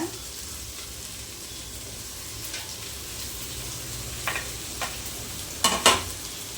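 Tomatoes fry in a pan for a fish curry, giving a soft, steady sizzle with occasional scraping stirs and a couple of louder clattering spoon knocks toward the end.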